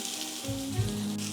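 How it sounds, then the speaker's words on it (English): Sliced onions and tomato fry in a tablespoon of oil in a pan, a steady close sizzle with a few soft pops and a brief hum in the background. "Now let's fry this for 3 to 4 minutes."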